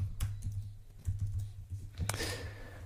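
Someone types on a computer keyboard in short, uneven bursts of close, crisp key clicks, the last one a harder clack, over a low steady hum.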